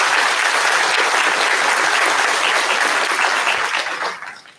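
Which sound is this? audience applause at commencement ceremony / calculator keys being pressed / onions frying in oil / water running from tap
audience applause at commencement ceremony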